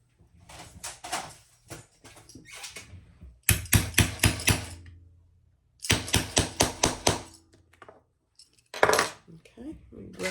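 Rivet being set through several stacked layers of a sewn shoulder bag: bursts of sharp, rapid metallic taps in clusters of about five or six, close and loud, separated by quieter handling sounds.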